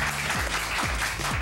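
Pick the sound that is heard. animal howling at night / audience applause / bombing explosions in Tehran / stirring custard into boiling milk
audience applause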